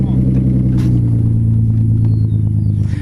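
A Nissan 300ZX Z32 rolls through a parking lot with dry and wet patches during a shakedown, its engine giving a steady, deep, loud rumble that holds evenly throughout.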